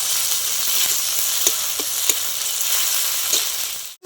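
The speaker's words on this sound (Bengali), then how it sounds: "এবার খুব ভালো করে নেড়ে চেড়ে নেবো যাতে আদা রসুনের কাঁচা গন্ধটা কেটে যায়" Ginger-garlic paste fries in hot oil for a Bengali pomfret curry, a close, loud, dense sizzle with a few distinct spatula knocks as it is stirred, cutting off abruptly at the end.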